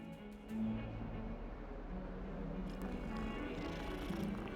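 A cat in the video game Hogwarts Legacy purring while being petted, a soft continuous low rumble that stays faint and steady throughout, heard alone.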